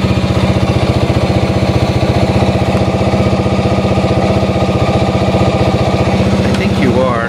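Yamaha Champ moped engine idles steadily and loudly nearby, a continuous fast putter holding even throughout with no breaks.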